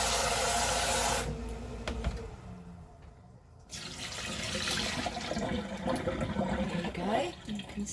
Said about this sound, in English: Porridge pot. I'm going to just rinse this out a little.